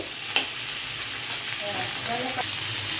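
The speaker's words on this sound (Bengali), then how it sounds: "এই ক্যাপসিকাম আর টমেটোগুলো ভেজে নেব হালকা করে। খুব বেশি ভাজবে না, হালকা করে ভাজবে" Capsicum and tomatoes fry lightly in butter in a pan, an even close sizzle with a sharp utensil tap near the start and soft stirring scrapes, no voices.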